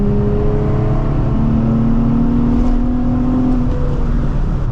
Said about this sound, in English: Let's give it a good acceleration up this hill real quick.